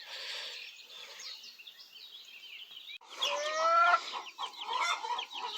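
Several chickens cluck and chatter nearby while scratching in gravel, their calls overlapping in a busy stream with a louder flurry partway through.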